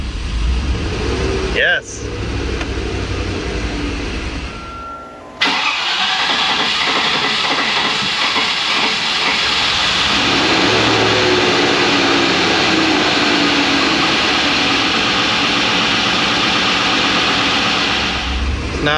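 A Land Rover Discovery engine cranks and catches, then settles into a loud, steady running rumble close by, with someone speaking briefly.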